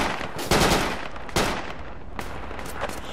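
Gunfire in the tactical shooter Project Reality during a Russian helicopter assault, with dense bursts crackling continuously and two louder shots standing out, no voices.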